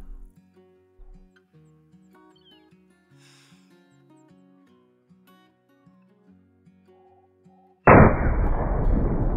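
A single loud, close hunting-rifle shot in the hunting game Call of the Wild, cracking sharply after a long quiet stretch of soft ambient music and ringing on with a broad echoing tail.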